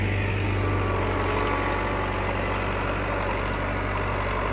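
A Farmtrac 6055 tractor of 60 horsepower pulling an 11-tine Field King tiller runs with a constant, heavy low diesel drone, close and loud, steady throughout with no talk.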